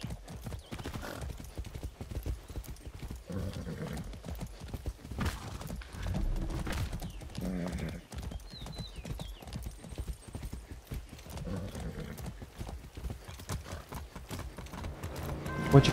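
Horse hooves clip-clop repeatedly in the open-world game Far Cry 6, with occasional neighs and whinnies, moderately loud and close, mixed with game ambience and brief intermittent speech.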